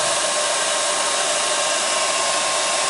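A hair dryer blows steadily nearby while warming a rubber rim protector strip being fitted to a lipped car wheel rim, a loud, even broadband whoosh with no pauses and no voices.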